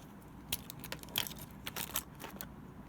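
Old keys from a collection, including car, tubular and wafer types, clinking and jangling together in quick irregular bursts of bright metallic clatter, close by with no talking.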